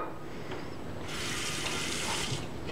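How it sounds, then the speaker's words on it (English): Tap water pours into a large cooking pot, a steady, moderately quiet rush that starts partway through and holds for over a second before stopping. "take this large pot and fill it with water."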